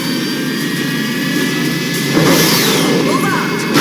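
Jet aircraft engines roar during takeoff in an animated series, a loud, steady high-pitched whine that swells into a rushing blast halfway through, with voices talking over it.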